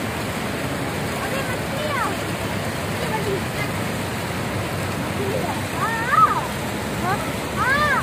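Small waterfalls along a roadside water channel on a drive from Hyderabad to Karachi: a steady rushing, splashing wash of water, fairly close, with faint whistling chirps above it.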